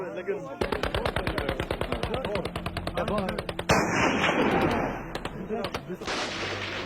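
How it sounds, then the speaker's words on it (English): Rapid bursts of gunfire from tribesmen firing celebratory shots crackle in quick succession, then a heavier rumbling volley and scattered shots, loud and close outdoors. "these days the tribesmen use their firearms the way we use fireworks"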